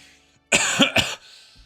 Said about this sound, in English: I am so tired of this fucking cough